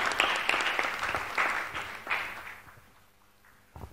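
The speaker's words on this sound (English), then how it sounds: "Madam Mamley, please, a round of applause for her." An audience at a strategy launch event applauds in a fading round of clapping, crisp bursts thinning out over a few seconds before a last small spatter at the end.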